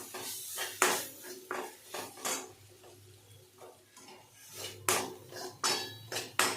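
Spoon scraping and clinking against a pan while coriander powder, Kashmiri red chilli, salt and tomato are mixed together, a series of sharp metallic knocks with quieter stirring between them, close up and with no talking.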